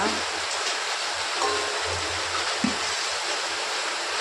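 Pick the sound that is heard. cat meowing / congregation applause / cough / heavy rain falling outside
heavy rain falling outside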